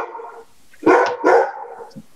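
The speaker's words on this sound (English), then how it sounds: "Whose dog?" A dog barks twice, loud and close, during a remote planning commission meeting, with softer whimpering noises before and after the barks.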